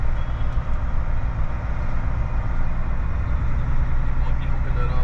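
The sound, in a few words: truck reversing to hook up a double trailer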